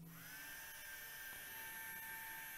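A small electric blower fan pushing air through a duct runs with a constant high-pitched whine over a soft airy hiss, steady and quiet throughout.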